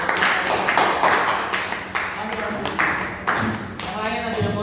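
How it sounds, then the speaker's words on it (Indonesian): A classroom group claps in a short burst of rhythmic applause, several hands slapping in loose unison for a few seconds, with voices talking over it. "Oke, kasih tepuk tangan."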